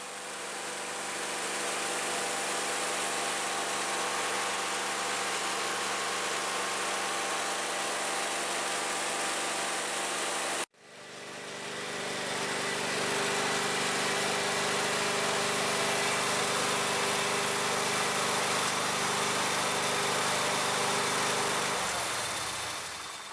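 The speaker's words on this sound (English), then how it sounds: "Grab yourself a hedge trimmer." A hedge trimmer runs steadily at close range for most of the clip, a continuous mid-pitched motor drone that cuts out abruptly partway through and then restarts, holding an even, unbroken tone with no voices.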